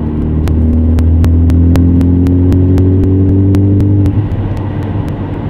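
A Ford Focus ST with a catless downpipe pulls under full boost in a high gear, its exhaust droning loud and deep with a steady rising tone, then easing off, accompanied by regular rhythmic ticking clicks.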